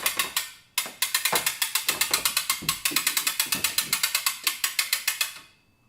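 A Hoist A Cart lift being hand-cranked to raise a Jeep top gives rapid, loud ratcheting clicks in a steady rhythm, with a brief pause near the start before the cranking picks up again.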